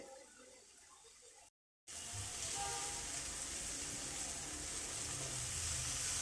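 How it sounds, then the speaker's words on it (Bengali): Tomatoes frying and charring in a pan for a garlic tomato mash, with a brief silent gap and then a loud, steady, close hiss of sizzling that continues to the end. "অন্য পাঁচটা এভাবে পোড়া পোড়া করে ভেজে নিব"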